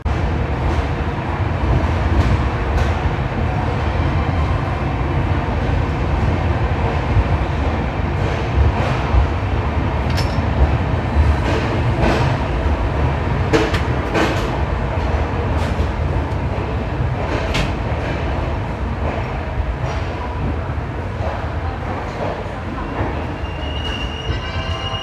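The Kota Janshatabdi Express pulls out of Kota station, a steady rumbling roll of wheels and carriages with scattered clicks and squeals from the rails over a continuous, fairly loud bed of noise.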